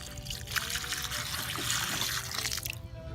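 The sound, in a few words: pouring dirty fish tank water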